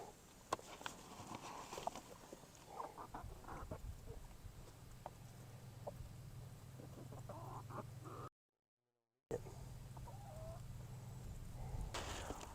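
Chickens cluck and murmur softly in scattered bursts, with a low steady hum underneath and occasional knocks.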